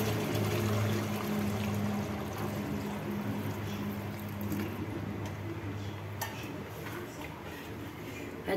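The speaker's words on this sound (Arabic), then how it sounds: "انا غادي نزيد الماء اللي غادي يكفاني في لاصوص" Water is poured into a sauce pot of cooking pigeon, lentils and garlic for a Moroccan rfissa, a steady close rushing splash that runs continuously and gradually softens.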